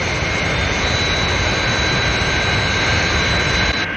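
A jet aircraft engine roars loud and steady, a dense continuous blast with a high whine running through it, cutting off just before the end.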